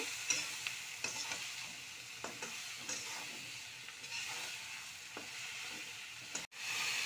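Spices stir-fried in a pan, a steady close sizzle with occasional scraping stir strokes, no voices, ending in a sudden sharp click and brief drop before the frying resumes.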